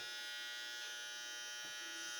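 An electric shaver buzzes steadily and close up as it runs over a scalp during a head shave, with a bright, even whine and no talking.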